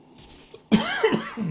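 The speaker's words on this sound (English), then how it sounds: "I don't know where this cough came from," A single loud, close cough bursts out after a stretch of quiet room noise, followed by a rougher throat-clearing tail.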